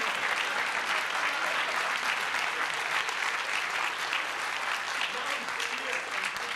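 An audience at a philosophy and psychoanalysis talk breaks into dense, sustained applause, many hands clapping evenly and loudly throughout without a break.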